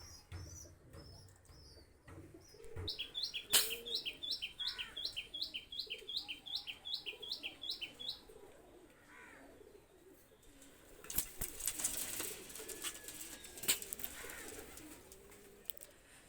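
Pigeons of a fancy breed coo in a rapid rhythmic series of soft calls, with chirps and some wing flapping, close by amid low background noise.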